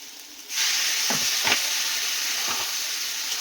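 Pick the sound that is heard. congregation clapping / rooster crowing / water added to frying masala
water added to frying masala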